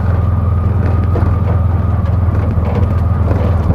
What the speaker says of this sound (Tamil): ஸோ வண்டி இப்போ மூவிங் தான் இருக்கும் தேர்ட் கியரில் போயிட்டுருக்கேன்